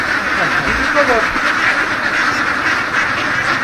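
Many ducks quacking at a large duck farm in Misamis Occidental, a dense, continuous flock chorus close by with overlapping calls throughout.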